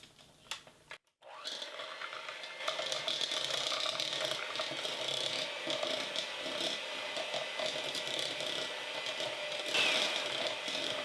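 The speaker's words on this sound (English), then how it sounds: "I'm going to take my hand mixer and I'm just going to cream our butter and our sweetener together" A handheld electric mixer creams butter and sweetener in a bowl for keto cranberry bars, giving a steady whirring drone with rattling beater texture that starts after a brief pause and continues loudly throughout.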